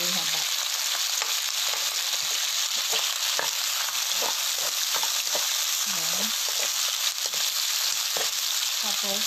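Chopped tomatoes hit hot oil in a pan for a fish belly sinigang, giving a steady, loud broadband sizzle throughout with scattered scraping and stirring clicks and no voices.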